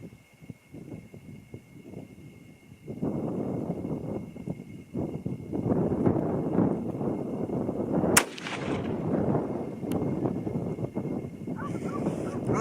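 An 8mm Mauser (8x57mm) rifle fires handloaded rounds outdoors, with sharp loud reports standing out over a windy, rumbling background.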